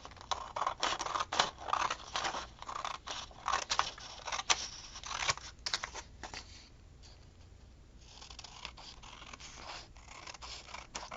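Scissors trimming background paper for journaling cards, close crisp snipping and rustling in quick bursts with a brief quieter pause midway.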